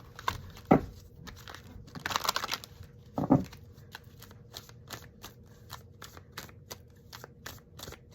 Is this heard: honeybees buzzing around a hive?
no